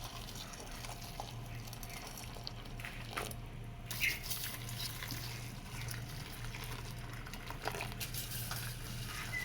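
Hot water pours over aluminum foil and salt while silver is being cleaned, a faint, steady splashing trickle with small bursts under quiet background noise.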